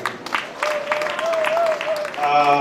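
An audience claps together at a gathering for students. The applause is moderately loud and fills the whole moment, steady and close, while a voice runs over it and a tone sounds faintly through it.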